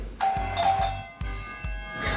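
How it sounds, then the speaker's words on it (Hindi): An electronic doorbell rings inside an Indian home, a series of bright chiming tones repeating several times in quick succession over a low background hum, clear and moderately loud with no one speaking. "और ये हमारी घंटी है जो बहुत बहुत अनोइंग है, बहुत ज्यादा बजती है।"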